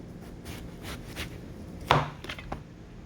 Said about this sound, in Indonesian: Dan ini saya akan lanjut memotong-motong.